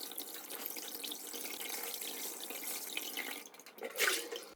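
Vegetables being washed under a running kitchen tap, a steady broadband water rush at close range that swells briefly near the end, with no talking.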